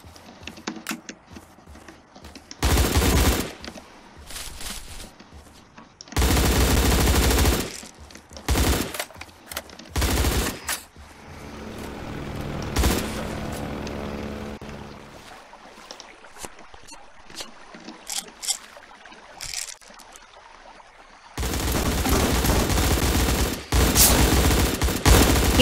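Shotgun fire in the top-down shooter Surviv.io, loud blasts and bursts in separate clusters with quieter gaps between them.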